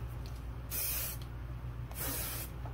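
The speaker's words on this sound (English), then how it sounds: "I'm probably gonna spray a little bit of, hey, what's up? Of hair shampoo in my hair" Hair product is sprayed onto hair in two separate bursts, each a close, loud hissing spray lasting under a second, with a quiet room hum between them.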